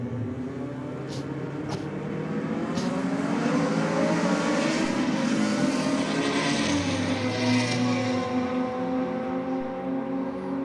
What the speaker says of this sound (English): got V8 versus Rotary Pack Performance against JM Automotive, and Trent Smith behind the wheel of the Com